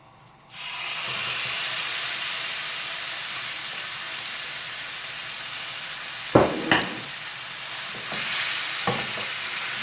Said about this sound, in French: Je mets ma viande.